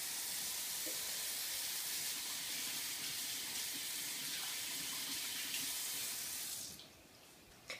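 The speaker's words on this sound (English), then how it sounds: "Now, I'm going to wash my hands" Running tap water pours steadily into a sink while hands are washed after handling raw meat, a constant close hiss that cuts off abruptly near the end.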